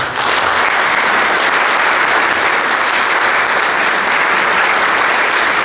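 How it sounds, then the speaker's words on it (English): Dense, sustained applause from a large crowd at a boys' lacrosse team banquet, loud and even throughout with no break. "we want to give you a big round of applause"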